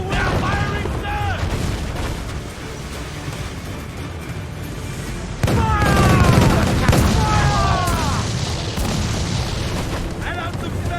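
Ship cannons fire in Assassin's Creed IV: Black Flag during a naval battle, a steady dense roar of booming broadsides and rumbling gunfire, with shouted orders and sliding whistling effects over the continuous loud din.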